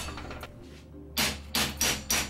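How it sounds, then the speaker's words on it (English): Four sharp, loud hammer blows ring out on a chisel driven against a bushing on a Toyota 4x4 steering spindle clamped in a vise, in a quick, evenly spaced series. "Using a hammer and chisel, begin separating the bushing from the spindle as shown."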